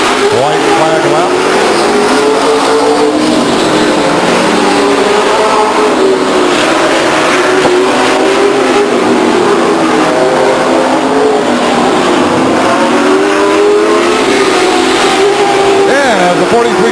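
Race cars roar around Stockton 99 Speedway, a loud, continuous rush of engines with rising and falling revs as cars pass, under a constant crowd and PA wash.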